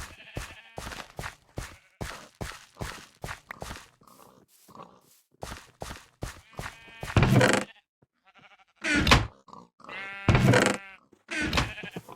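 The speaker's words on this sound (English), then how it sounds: "Hello, sheep. We're breeding you today." Sheep in the Minecraft video game bleating repeatedly in a rhythmic series of short calls, with a few louder, longer bleats toward the end and footstep-like sounds between them.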